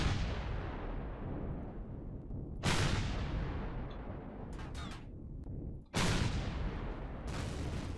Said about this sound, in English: Whoa, shots.